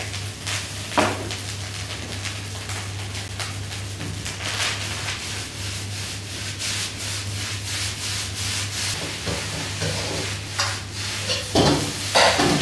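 Rice stir-fried in a wok for Yangzhou fried rice, a steady scraping and tossing sizzle with repeated rhythmic spatula strokes against the pan, close and continuous over a low constant hum of the burner.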